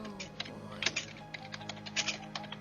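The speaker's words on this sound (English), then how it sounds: "Will you stop typing?" Typing on a computer keyboard, a quick irregular patter of close key clicks with a few sharper strokes, over a faint background hum.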